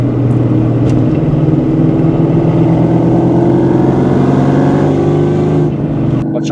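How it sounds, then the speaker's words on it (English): A 2003 Ford SVT Mustang Cobra V8 exhaust idles with a steady, loud burble that rises slightly as the engine revs, close to the listener, with no talking. "Let y'all hear that exhaust a little bit more."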